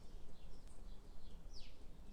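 Birds sing faintly in an urban garden, a few thin chirps and one clearer rising-falling call over a low background hum, distant and quiet.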